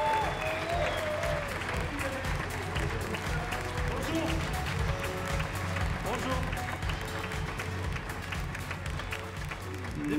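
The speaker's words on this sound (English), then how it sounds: "Ladies and gentlemen, big and enormous round of applause to Octave KLABA." Audience applause at a large tech company summit keynote, a steady wash of clapping from a big crowd with music and voices running underneath throughout.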